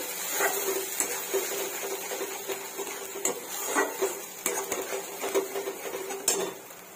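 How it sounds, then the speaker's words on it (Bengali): Spices fry in a pan while a utensil stirs them for a paneer butter masala, giving soft sizzling with scattered scraping and metallic clinks against the pan. "মশলাটা হালকা কষাতে থাকবো।"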